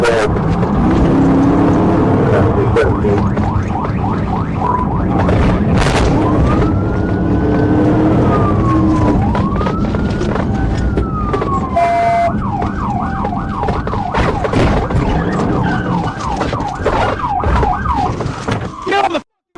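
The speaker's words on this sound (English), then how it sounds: "despite Trooper Lucas activating his emergency lights and siren." A police car siren wails loudly and continuously during a high-speed pursuit, its rising and falling sweeps mixed with fast yelp bursts over steady road and engine roar, close and dominant throughout.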